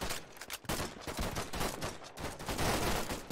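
A full magazine emptied from an automatic weapon in the World War II shooter Warfare 1944, a loud continuous stream of rapid shots with no talk over it.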